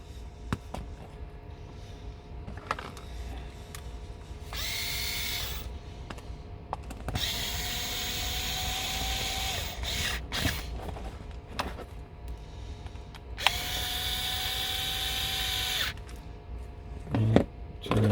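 A power drill drives screws into the lid of an indoor box, with two sustained whirring bursts mid-clip and another later, between quieter mechanical handling noises; no talking.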